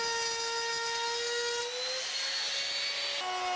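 Handheld power tool cutting a groove for a drawer bottom in timber, a loud continuous whine that shifts pitch as the load changes, with no voices.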